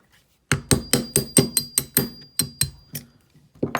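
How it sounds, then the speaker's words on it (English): A hammer striking a punch to drive out the trigger pins of a Gen 5 Glock pistol, about a dozen sharp metallic taps in a quick, slightly irregular series, close and loud, with no talk. "what you need to take it apart is just some punches and a hammer. So we're going to go ahead and get all the pins knocked out"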